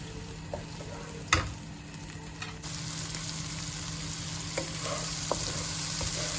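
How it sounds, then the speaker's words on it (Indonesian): Chili paste sautéing in a pan for Singapore-style lontong, a steady close sizzle with occasional utensil clinks and a sharp tap near the start, no voices. "Biasa kita tumis sampai naik bau dan cabenya juga sudah masak."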